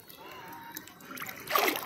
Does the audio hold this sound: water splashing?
yes